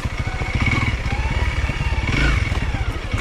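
A Honda CRF 300L motorcycle rides through rutted jungle terrain, its engine chugging loudly and steadily up close with a throbbing low pulse, rising briefly as the throttle opens, with scattered clatter from the rough trail.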